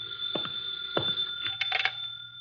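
Telephone ringing in an old-time radio detective drama: two short bell rings, then a third brighter burst, set against a steady electronic hum with no speech.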